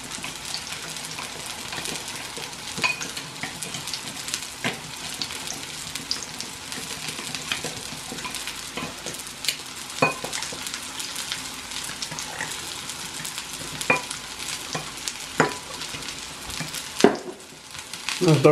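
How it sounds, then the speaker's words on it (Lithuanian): A potato pancake mixture for Ukrainian deruny, with sour cream, is stirred well with steady scraping and sizzling-like crackle, a continuous close texture broken by small clicks. "Išmaišom gerai."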